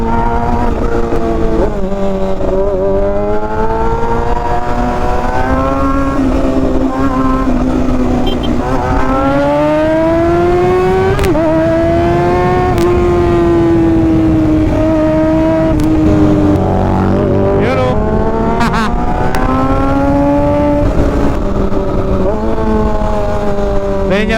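A motorcycle on a short ride through Pangasinan after the rain hums loud and close. Its engine note climbs and drops in repeated sweeps as it speeds up and eases off over a steady wind-like roar.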